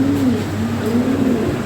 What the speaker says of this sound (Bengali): এগুলো বিগ সাইজের কবুতর